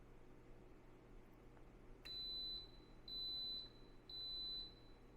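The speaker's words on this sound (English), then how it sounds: "And I'm just going to wait for it to confirm the selection. This should beep soon." An Instant Pot pressure cooker confirming a setting with three sustained high electronic beeps, evenly spaced about a second apart, over a quiet room hum.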